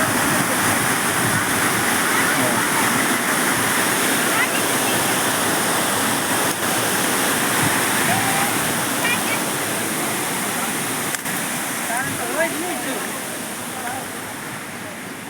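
Water rushes and cascades near a Mahakali Mata temple, a loud steady roar close by that continues throughout, with faint bird calls over it.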